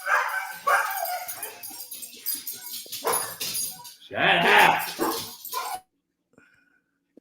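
Dogs bark in short bursts close by, with the loudest cluster near the end, mixed with casual conversation and a person shouting at them before the sound cuts to near silence.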